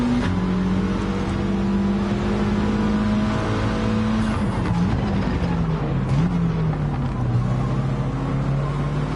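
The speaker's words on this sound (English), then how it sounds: "Out onto the power once more, going to go through the gears." A race car in a PS4 racing game accelerates hard through the gears, a loud continuous engine whine rising in pitch and dropping at each upshift, up close and alone with no talking.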